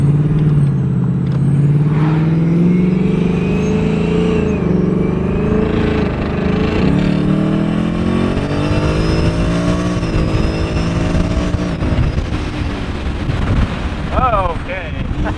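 A supercharged Ford Mustang 5.0 with an MBRP street exhaust accelerates hard, its loud engine note rising steadily through the pull with blower whine and wind noise, then easing into burbles near the end.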